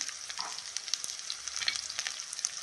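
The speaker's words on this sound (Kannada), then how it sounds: "ಈರುಳ್ಳಿ ಹಾಕಿದ್ದೀನಿ ಅದೊಂದು ಸ್ವಲ್ಪ ಫ್ರೈ ಆದಮೇಲೆ ಒಂದು ಬೆಳ್ಳುಳ್ಳಿ ಹಾಕ್ತಾ ಇದ್ದೀನಿ" Onion and garlic frying in oil for a chutney, a soft, steady crackling sizzle with small pops and faint stirring, close by and fairly quiet.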